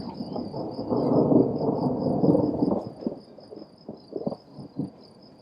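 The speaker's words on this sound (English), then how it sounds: "We just had a lot of thunder" Loud rolling thunder during strange, rainless weather in a garden, a long rumble building and fading over a few seconds, followed by a few softer distant rumbles, with a steady insect or cricket chirp running throughout.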